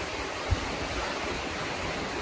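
Stream water flows steadily under a bridge in Vermont, a constant broadband rush with one brief thump, no voices.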